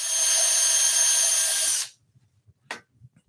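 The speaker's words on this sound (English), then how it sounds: "let's start drilling our first hole." A power drill boring a hole in wood for a Christmas carousel, a loud steady whine for nearly two seconds that stops abruptly, followed by quiet and a brief clack.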